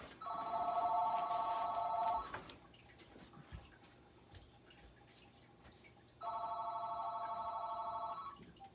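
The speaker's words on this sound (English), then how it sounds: "Sorry about the phone. Let me handle that right now." An indoor telephone bell rings in two electronic bursts of about two seconds each, separated by a quiet pause of roughly four seconds, moderately faint against a low background hum.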